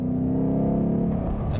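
A Ford Mustang engine revs hard past 3,000 RPM, a deep, loud, sustained growl with strong harmonic drone that holds steady and then climbs slightly toward the end.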